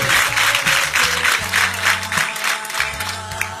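A congregation claps during a sermon in Q'eqchi', a lively burst of applause in quick rhythmic pulses over low sustained tones that sound like a keyboard or organ.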